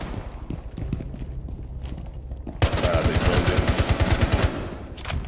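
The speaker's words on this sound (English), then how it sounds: "I hear gunshots from over there." Rapid automatic gunfire rings out in Rainbow Six Siege on the Border map, a fast rhythmic burst of shots starting halfway through after quieter game noise, fairly close and loud.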